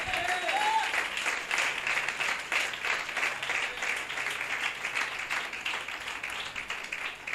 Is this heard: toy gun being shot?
no